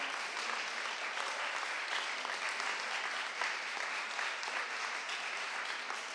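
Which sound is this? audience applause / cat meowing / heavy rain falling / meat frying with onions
audience applause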